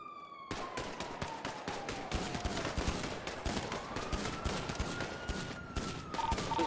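AK rifle in a GTA roleplay firefight, rapid repeated automatic bursts cracking close and steady for several seconds while a police siren wails and sweeps in the background.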